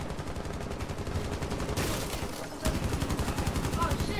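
Rapid automatic gunfire from Rainbow Six Siege rattles in dense, continuous bursts with a brief pause, then resumes just as loudly and close.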